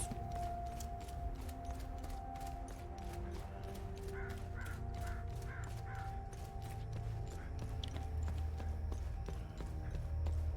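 Horse hooves clip-clop in the video game Hell Is Us, a steady run of evenly spaced clicks over a low ambient hum, with crow-like caws briefly rising in the middle.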